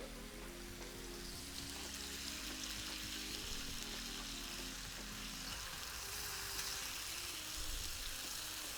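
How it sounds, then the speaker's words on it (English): Faint, steady sizzling of beef satay skewers cooking over heat, a soft continuous crackle with a low background hum, no talking. "Can you hear the sizzle?"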